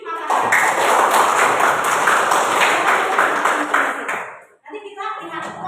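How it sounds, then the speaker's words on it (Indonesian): Classroom of seventh-grade students clapping for a Makassar team, a dense, loud burst of applause lasting about four seconds before breaking off, followed by a brief spoken voice. "Tepuk tangan untuk tim Makassar"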